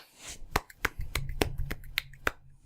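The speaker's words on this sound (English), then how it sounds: "that's just the sound of two hands clapping" Two hands clapping in a small quiet room, about ten sharp, separate claps at an irregular, unhurried pace, close and dry, with no voices.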